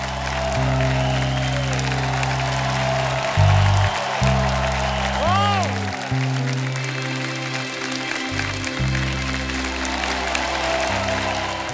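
A studio audience at a comedy talk show, The Kapil Sharma Show, claps loudly and steadily for several seconds over backing music.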